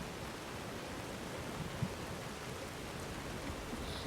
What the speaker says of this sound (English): there's actual effects from the rain